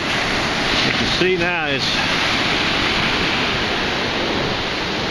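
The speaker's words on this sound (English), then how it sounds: "Got some big swell waves. Wind's blowing from the west." Big swell waves roll in under a steady west wind, a continuous broad wash of surf and gusts filling the background while someone speaks briefly near the start.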